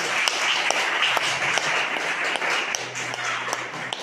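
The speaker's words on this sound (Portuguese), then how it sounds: "Aplauda o Senhor Jesus." A church congregation claps in a sustained burst of applause, a dense crackle of many hands at moderate distance lasting the whole few seconds, with faint voices and a low tone in the background.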